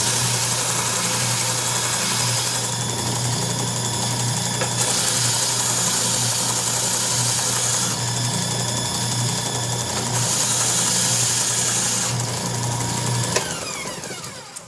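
Wooden business card holder made from scrap wood, its edges sanded flat on a power sander: a loud continuous motor drone that shifts in pitch and intensity as the workpiece is pressed and moved.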